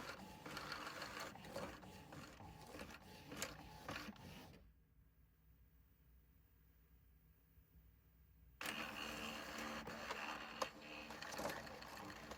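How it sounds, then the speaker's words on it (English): A home printer runs a color duplex job on business cards, turning the sheets automatically for both sides: a steady whirring mechanical clatter that stops for a few seconds, then starts up again, with no one speaking. "Then I'm going to open my printer back up and click Print."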